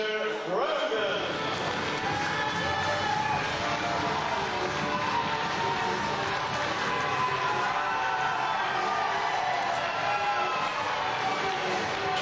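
A ringside wrestling crowd roars continuously for Allan "The Terminator" Grogan, a dense, loud wall of cheering and noise that holds steady throughout.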